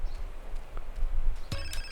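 A phone rings in GTA San Andreas, a short electronic trill near the end of a quiet stretch of game noise.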